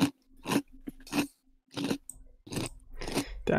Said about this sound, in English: your chewing is very loud